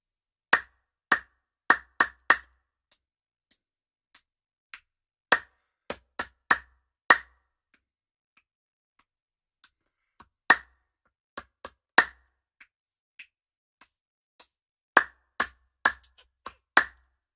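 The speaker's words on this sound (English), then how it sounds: "For the star clap, put the hands in this position. They look like a star." Sharp, loud star claps from a body percussion workshop group, in tight bursts of three to five with pauses between, plus a few softer scattered claps and no talking.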